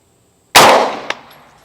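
A single sharp report from an Extar EP9 pistol during a velocity test, loud and abrupt after silence, decaying quickly with a faint metallic clink shortly after.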